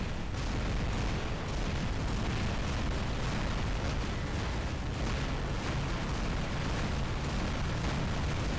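Orkan missiles striking a robot in the War Robots mech game, a dense, unbroken roar of explosions and impact blasts that stays loud and saturated throughout, with no speech.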